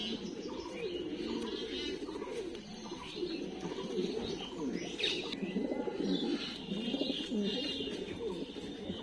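A flock of good-line racing pigeons coos in a loft, a thick, overlapping low murmur held throughout the clip, with scattered higher chirps and rustles mixed in.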